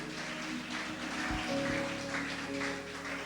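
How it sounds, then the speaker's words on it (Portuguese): A church congregation at a sermon claps together in a dense, rain-like patter that holds steady for over three seconds, moderately quiet with a low thud or two near the middle. "Cadê as palmas que eu não consigo ouvir?"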